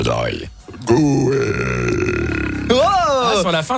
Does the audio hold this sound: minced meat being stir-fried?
no